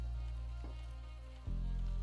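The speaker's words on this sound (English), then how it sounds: "The pattering of rain on a roof." Rain patters on a roof as a steady, dense hiss that fills the whole stretch, shifting slightly in level near the end, with no voices.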